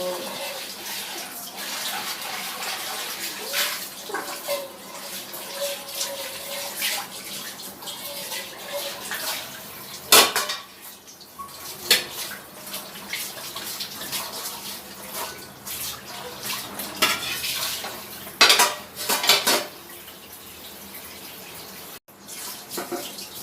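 Tap water runs steadily into a kitchen sink while dishes, pots and cutlery are washed, with frequent clinks and clatters of utensils and cookware breaking through the constant splashing close by.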